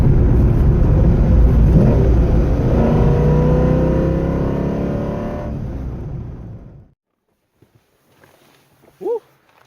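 A Corvette C5 sports car engine roars loudly and revs up with rising pitch on a back road, then fades away into the distance until only quiet remains, followed by a brief short sound.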